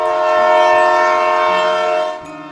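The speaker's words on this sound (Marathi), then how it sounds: "ती ट्रेन ही हळूहळू त्याच्या दिशेने येत होती, त्याच्या प्लॅटफॉर्मवर येत होती" A local train pulls into a platform in a Marathi horror story, sounding a loud, sustained horn close by that fades slightly at the end over a rumbling undertone, with no voices.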